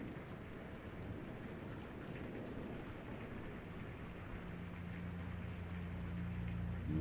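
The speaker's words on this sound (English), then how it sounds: "It was a dark and stormy night." Quiet rain and thunderstorm ambience from the video game Blue Prince: a soft, even wash of rainfall with a low rumble of thunder building toward the end.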